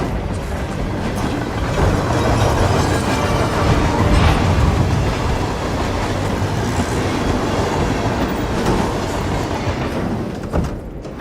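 A train rolls steadily along rails in Hitman 3, with a loud, continuous rumble of wheels and faint clickety-clack that carries through the whole stretch without voices.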